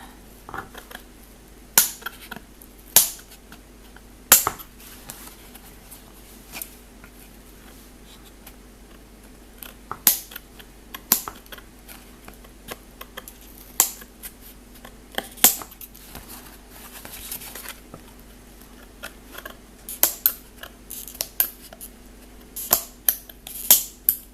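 Scissors cutting away leftover thread from a four-strand, two-colour kumihimo braid, sharp scattered snips and clicks over a quiet room hum, some clustered and some spaced seconds apart.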